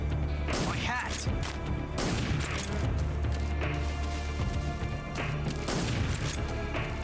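Gunfire in the stealth action game Metal Gear Solid 3: Snake Eater: several loud, sharp shots spaced through the clip over a steady low game hum, with no talking.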